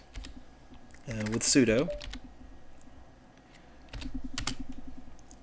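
Keys clatter steadily on a computer keyboard as a Linux command is typed, close and fairly quiet, with someone speaking briefly over the clicking.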